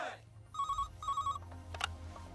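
An old-style telephone bell rings in two clear bursts against a low background hum in a Hindi film scene, followed by a brief sharp click.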